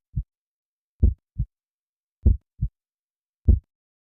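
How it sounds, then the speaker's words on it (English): Heartbeat sound effect of a man's hideous heart in an Edgar Allan Poe tale, heard alone as three paired lub-dub thumps, low and deep, spaced about a second apart with clean silence between. "It was the beating of his hideous heart."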